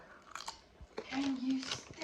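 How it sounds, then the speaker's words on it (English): Crunchy Volcano Takis chips being chewed up close, a few short crisp crunches and bites scattered across a couple of seconds, with faint voices in the background. "I'm also trying volcano takis for the first time."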